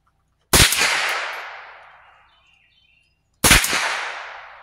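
Two loud, sharp rifle shots from a scoped Stevens 87A, spaced about three seconds apart, each cracking out close by and trailing off in a long decaying echo across open ground.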